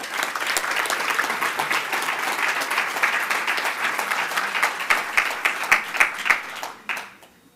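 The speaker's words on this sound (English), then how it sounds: "let's give all of our youth category finalists a huge round of applause" An audience at a pitch competition gives a long round of applause for youth finalists, a full, steady wash of clapping with louder distinct claps near the end before it drops away.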